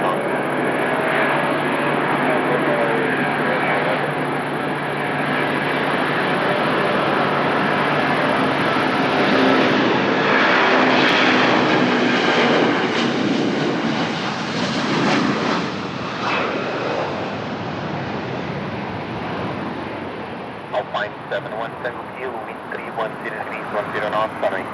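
An airliner takes off from Lisbon Airport, its jet engines roaring loud and steady, swelling to a peak and then slowly fading into the distance, with talk under the noise.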